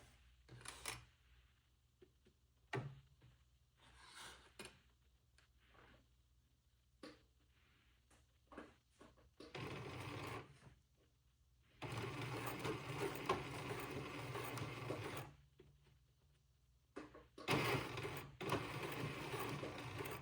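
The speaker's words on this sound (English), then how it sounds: "Let me move my camera over towards the sewing machine" A sewing machine whirs in several short runs of stitching, starting and stopping, with quiet mechanical clicks and handling noises in between.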